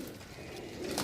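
Pigeons coo softly on a rooftop loft, low murmuring calls blending into a steady background of other birds, fairly faint and brief, with no talk.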